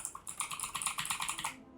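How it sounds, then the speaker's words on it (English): Loud, clicky computer keyboard typing in a fast, steady run of sharp keystrokes for about a second and a half, close and alone, then stopping abruptly. "If I wanted to be loud and clicky, I have my keyboard for that"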